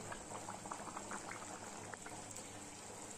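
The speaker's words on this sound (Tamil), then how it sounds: "இந்த குழம்பெல்லாம் நல்லா கொதிச்சு கரெக்டான பதத்துக்கு வந்துடுச்சு" Okra tamarind kuzhambu bubbles steadily in a pot, a dense run of soft popping bursts over a low simmering rumble, close and continuous with no talking.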